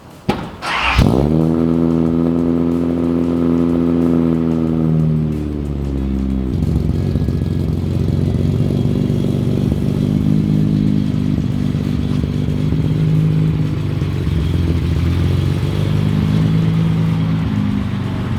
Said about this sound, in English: So it started and it over revved on start